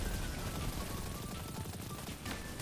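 Rapid rocket fire and explosions in the sci-fi shooter Destiny, a dense, continuous barrage of loud blasts with no voices.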